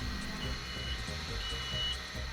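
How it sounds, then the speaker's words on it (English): Descent alarm on a Genie GZ-series MEWP scissor lift beeping steadily as the platform lowers, a continuous electronic tone over low machine hum. "If the machine is equipped with a descent alarm, this should sound while the platform is lowering."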